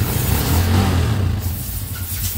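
A motorcycle engine runs steadily after a carburetor repair, a close, even mid-pitched idle with a slight rise in revs.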